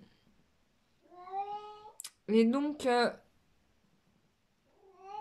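A house cat meows twice, giving a rising, drawn-out meow near the start and another at the end, while someone speaks briefly in French between the calls.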